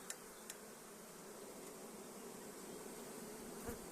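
A swarm of honey bees buzzes steadily in an outdoor thicket, a soft continuous drone with a few nearer individual bees flitting past the microphone, faint and without speech.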